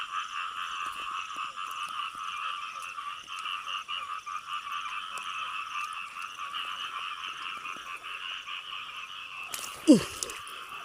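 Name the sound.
frogs croaking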